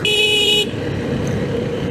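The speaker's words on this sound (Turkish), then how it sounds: "Evet bak korna zayıf." A weak car horn, suspected of a failing battery, sounds in one steady, somewhat thin honk lasting about half a second, then a low engine rumble continues.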